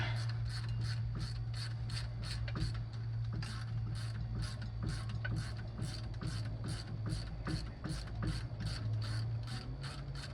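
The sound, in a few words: ratchet removing bolts from 1956 Chevy 210 generator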